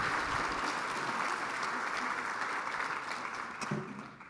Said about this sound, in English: let's give ourselves a hand of applause.